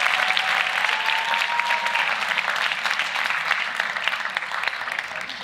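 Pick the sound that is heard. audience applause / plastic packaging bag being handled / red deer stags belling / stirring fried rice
audience applause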